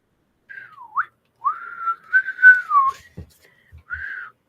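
A woman attempts to whistle in a series of short, wavering, breathy whistled notes, some gliding up and down in pitch, close and fairly loud, with small bumps and breaths between them.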